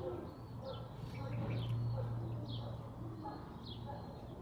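Pigeons coo softly in a low rhythmic murmur, with faint chirps and light rustling around a loft.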